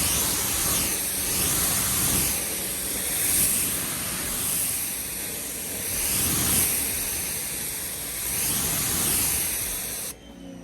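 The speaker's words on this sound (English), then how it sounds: "Let's go ahead and spray this." Repeated hissing bursts of a detail spray bottle sprayed onto a dirty car door, several pumps in a loose rhythm, close and fairly loud, with no talking.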